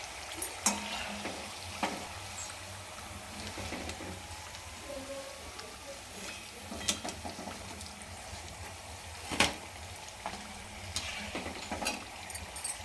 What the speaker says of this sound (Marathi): तर ह्या अशाच पद्धतीनं आपण आता पूर्ण सगळ्या चकल्या मी तळून घेणार आहे